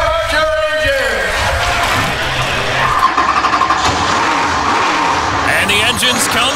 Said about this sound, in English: the engines come to life as we prepare for 300 hard-fought laps